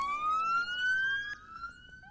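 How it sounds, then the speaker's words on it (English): A rising electronic police car siren in a video game wails close and loud, with a second warbling tone layered over it, no speech. "Turn the siren off."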